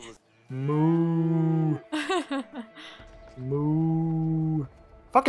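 Cows mooing in the video game A Way Out, two long, loud, deep moos close by, separated by a brief burst of other game sounds or voices.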